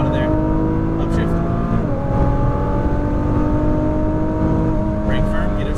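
Car engine pulling hard on a racetrack, a steady loud drone that climbs in pitch, drops sharply at an upshift, then climbs again, with a coach talking over it.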